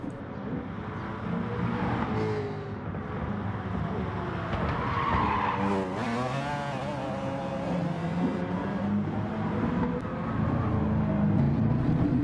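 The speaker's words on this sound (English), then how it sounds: "he's still having problems with fishtailing, so obviously the tyres are giving him some problems" Race car with worn tyres fishtailing through corners, tyres squealing and skidding in long wavering wails over a continuous engine drone, loud and sustained for about twelve seconds with no voices.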